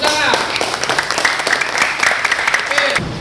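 A classroom audience claps together in a dense, sustained round of applause that carries through to the end, with a few voices mixed in.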